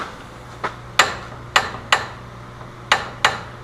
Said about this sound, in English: you won't get an exact click every time, so just push it a little bit further each time as you click it